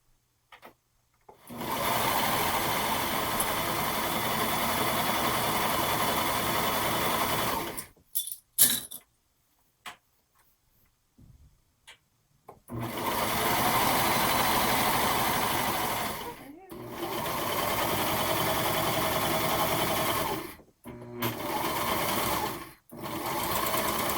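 A serger stitches a pant front and pant back together, running in long steady high-pitched buzzing stretches broken by brief pauses, with a voice talking faintly in between.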